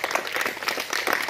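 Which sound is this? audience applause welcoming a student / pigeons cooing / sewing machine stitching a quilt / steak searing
audience applause welcoming a student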